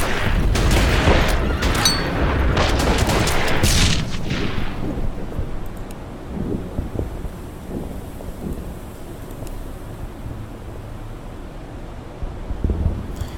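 Gunfire and artillery in the WWII strategy game Order of Battle: Panzerkrieg crash as a heavy volley of booms and cracks, loud at first, then fading into scattered distant rumbles and pops.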